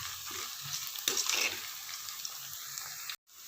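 Shallots and whole dried red chillies fry in oil for fish curry, a close steady sizzle with a stirring burst partway, fairly quiet, then a brief cut near the end.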